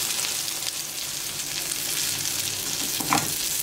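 Tomatoes topped with kashar cheese fry in a covered pan, giving a dense, steady crackling sizzle with a brief louder spatter near the end.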